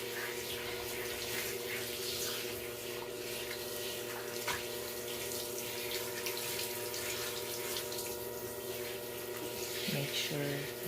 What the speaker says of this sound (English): this is the last rinse now